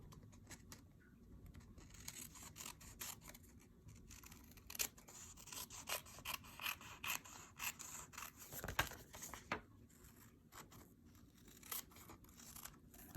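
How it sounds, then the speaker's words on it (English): Scissors fussy-cutting excess paper card: soft, quiet rubbing and snipping with irregular light crinkles and tearing-like rasps, close by and faint, with no talk. "then we're going to fussy cut the excess"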